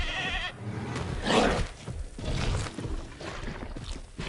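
A goat bleats in Jurassic World Evolution 2, a wavering, nasal cry rising loud in the middle, over a dense background of game ambience and rushing noise, with no talk.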